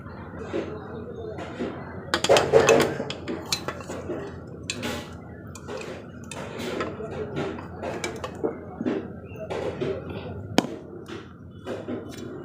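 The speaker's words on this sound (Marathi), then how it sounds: "आता आपण ह्याला पातेलं उतरून घेऊयात" A cooking pot holding a baked semolina cake is lifted off the stove, giving a few clattering metal knocks and scrapes amid scattered lighter clinks, fairly close and moderately loud with quiet stretches between.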